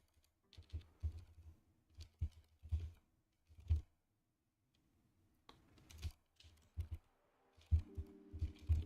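Someone types in short bursts on a computer keyboard, with clusters of close clicks and thumps separated by brief pauses and one longer gap, ending with a few heavier key strikes.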